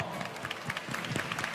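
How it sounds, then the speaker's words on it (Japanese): Audience applause at a live voice-actor werewolf game stage event: a steady wash of many hands clapping, with crowd noise and faint voices mixed in. "さあ皆さん大きな拍手でお迎えください。"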